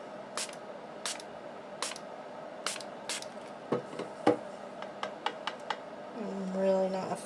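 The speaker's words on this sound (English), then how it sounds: "Let me spray it a little more." Spray bottle misting a craft project: several short, sharp hissing spritzes in an uneven rhythm, close and moderately loud, followed by softer rustling and a brief tonal squeak at the end.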